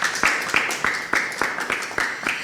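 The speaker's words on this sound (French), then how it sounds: "On peut applaudir pour lui." An audience claps at a TV presenter competition in a rhythmic run of sharp, evenly spaced claps about every third of a second, fairly close and loud, with no speech over it.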